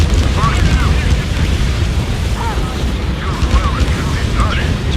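Rumbling explosions boom continuously in the video game Ace Combat 7, a dense, loud, sustained blast texture with faint higher warbling tones layered above.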